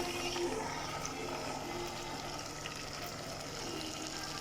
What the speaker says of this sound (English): I'm going to add a little bit of water so you can see and hear